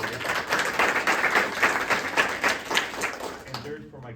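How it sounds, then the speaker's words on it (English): An audience at a Women Veterans Day proclamation signing with Governor Bob Ferguson claps for Shelly, a dense round of applause that holds steady and then cuts off abruptly near the end. "Round of applause for Shelly."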